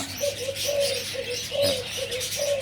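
Spotted doves and zebra doves calling near a competition field, repeated soft cooing phrases in a steady rhythm over a busy outdoor background of other birds, fairly close and alone without talk.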